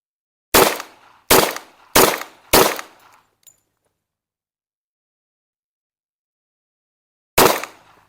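Colt-style 1911 pistol fired in a fast bill drill: four sharp, loud shots in quick even succession, a brief tail of echo, a few seconds of silence, then a fifth lone shot close by.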